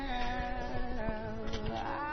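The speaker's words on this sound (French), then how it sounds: "Désolée, il y a mon chat qui se ramène." A pet cat meowing close by indoors, a drawn-out wavering cry that bends in pitch over a couple of seconds, with no talking.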